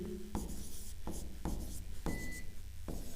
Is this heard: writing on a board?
yes